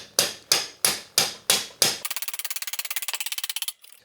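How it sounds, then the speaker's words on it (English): A hammer strikes a swing arm bolt on a Yamaha Blaster 200 ATV six times in a steady, loud rhythm, then shifts to a rapid run of about twenty lighter, quick taps before stopping abruptly. "last thing we got to do is smack this swing arm bolt through"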